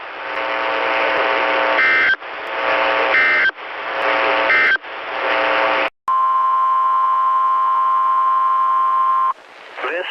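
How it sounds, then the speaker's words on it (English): NOAA Weather Radio alarm test: four loud, harsh buzzing data bursts in quick succession, a short gap, then a long, steady, piercing single warning tone that holds for several seconds before cutting off. "This is a test of the National Weather Service's radio warning tone alarm"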